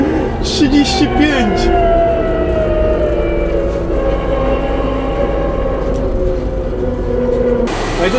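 A Chinese AUPAX combine harvester moving fast gives a loud, steady engine drone with a whining tonal hum under it, close and continuous, while a voice speaks over the start.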